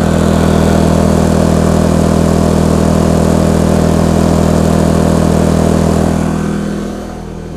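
A Hyundai HY2000SI portable inverter generator drones loudly and steadily while powering a camper's 13,500 BTU air conditioner compressor and fan, with a constant low hum that fades slightly near the end.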